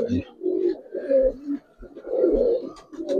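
Pigeons, Giribaz and coloring breeds, cooing in repeated low throaty phrases close by after one is released, with short pauses between calls.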